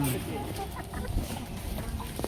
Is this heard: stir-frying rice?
no